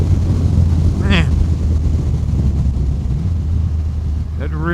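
Riding a 2024 Triumph Rocket 3 GT Storm motorcycle: a steady engine drone with heavy wind rush across the microphone, and a voice talking over it.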